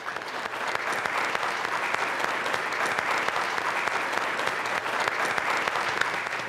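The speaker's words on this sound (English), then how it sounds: "Give yourselves a round of applause." Sustained audience applause at a panel program, steady and dense for the whole stretch, fairly close and alone without speech.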